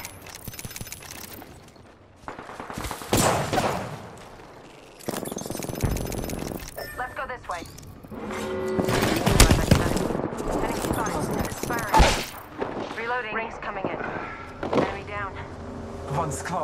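Bursts of rapid gunfire from the video game Apex Legends, mixed with game effects and a synthetic voice calling out, with loud clustered shots near the middle and end.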